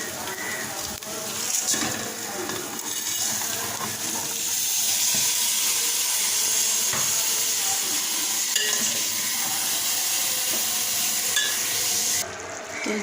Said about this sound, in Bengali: হাঁড়ি বসিয়ে দিলাম খিচুড়িটা করে নিই